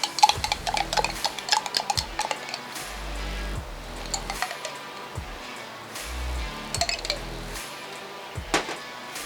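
A spoon stirs and clinks in a bowl of chipotle, adobo sauce and cream cheese, with repeated close taps and soft scraping in an uneven rhythm.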